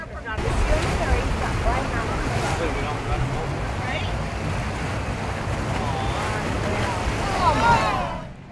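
Wind buffets the microphone over rushing waves and a boat's steady hum on an excursion off Cabo San Lucas, Mexico, with people chatting faintly beneath.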